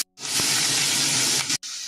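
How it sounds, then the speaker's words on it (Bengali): Onion paste frying in a hot pan with dried chillies, a bay leaf and nigella seeds, giving a loud, steady hiss and sizzle that lasts over a second, with brief breaks at the start and near the end. "পেঁয়াজটা একটু ভাজা করে নিলাম।"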